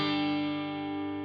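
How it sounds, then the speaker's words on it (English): A sustained guitar chord rings through a Chase Bliss CXM 1978 reverb pedal set to a long, warm room with the bass boosted, decaying slowly and smoothly with a full low end. "if I wanted a nice, long, warm room reverb, for example, I might turn that bass up a little bit"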